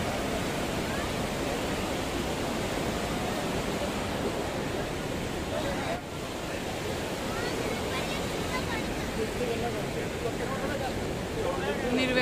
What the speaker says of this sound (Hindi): पानी बहुत ही तेज है, आवाज तो सुनती पड़ी होनी है